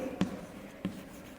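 A teacher writes on a classroom board, two brief, distinct taps or strokes of chalk or marker sounding about half a second apart at close range, with faint room hum between them and no talking.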